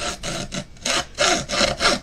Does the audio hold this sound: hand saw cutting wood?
yes